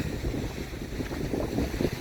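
Wind buffets the microphone during a walk along the Punta del Este peninsula in Uruguay, a constant roaring rush of broadband noise with small gusty swells throughout and no voice.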